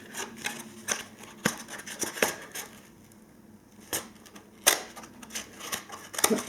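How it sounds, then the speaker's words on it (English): Scissors snip repeatedly through a thin cardboard egg carton, sharp close cuts in an uneven rhythm with brief pauses between them. "you very carefully cut each set of eyes out"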